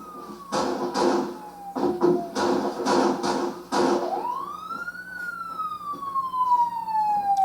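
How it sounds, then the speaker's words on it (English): A wailing emergency siren in a film scene, loud and near, sweeping up and down in long glides; choppy bursts of another sound cut in over the first half before the siren carries on alone. "Do you not know how to turn off a fucking siren, dude?"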